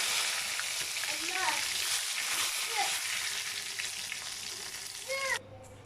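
Cauliflower pieces and curry leaves sizzling in hot oil, a dense steady crackle with small bubbling pops that stays loud and close until it cuts off near the end.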